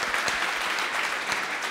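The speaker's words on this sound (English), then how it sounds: "But before this, give a lot of applause for ITT Madagascar." Dense applause from an event audience welcoming ITT Madagascar, loud and steady throughout with no voices over it.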